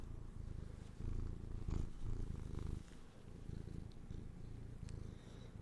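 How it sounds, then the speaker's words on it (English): A cat purrs close up in a soft, rhythmic rumble, pulsing with each breath, with no other sounds around. "Listen to that purr."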